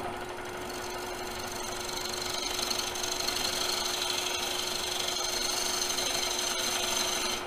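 Continuous rasping of a file and sandpaper working a beveled wood edge, a steady close scraping texture with a constant high whine running beneath it throughout.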